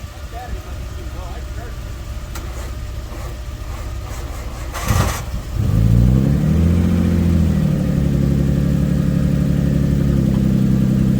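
A stored Japanese car's engine cranks briefly, then catches after winter storage and settles into a steady idle with a slight rev. Background noise runs throughout.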